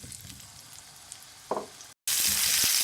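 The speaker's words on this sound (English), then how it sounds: "So we're going to shallow fry our potatoes." Potatoes shallow frying in oil in a pan, a soft steady sizzle with a small clunk as they are placed, then the frying turns suddenly louder and brighter after a brief cut.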